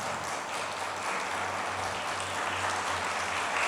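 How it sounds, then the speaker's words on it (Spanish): Sustained applause from a church congregation fills the space, a steady, even wash of clapping with a low hum underneath and no break. "Denle un aplauso al Señor"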